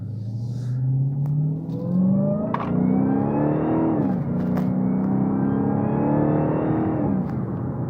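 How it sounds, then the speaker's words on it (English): The supercharged engine of a 2019 Dodge Challenger Hellcat revs up loud and close, its pitch climbing and shifting repeatedly with a whining supercharger winding up under the engine roar. "You could probably hear that charger winding up, that supercharger winding up"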